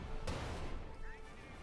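In the game Company of Heroes 2, a Pak 40 anti-tank gun round strikes a Stuart light tank, a sharp impact burst followed by a brief rumbling tail, with a voice talking underneath.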